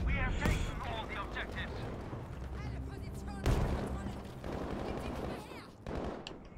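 Battlefield V gameplay with the MP28 submachine gun brings sharp, quick bursts of gunfire along with in-game explosions and effects, fairly loud throughout, as a voice talks over the action.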